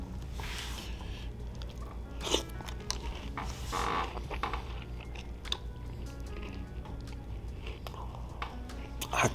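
Close, quiet crunching and chewing of Cheerios cereal with marshmallows soaked in chocolate milk from a school lunch, with repeated soft bites and squishy mouth sounds over a low steady room hum.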